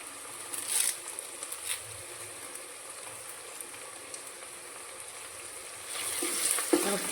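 Food frying in a pan, a soft steady sizzle with faint scattered scrapes and clinks of stirring that pick up briefly near the end, no speech.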